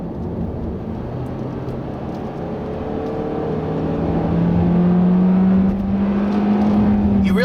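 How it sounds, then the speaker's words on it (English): A 2017 Hyundai Elantra's buzzy engine drones steadily from inside the cabin, its pitch rising as it revs higher, loud and continuous. "you really just hear that buzzy engine."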